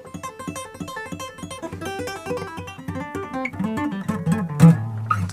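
Electric guitar licks played with tapping and hammer-ons, a quick run of clean notes that builds in loudness and density over a few seconds, heard alone.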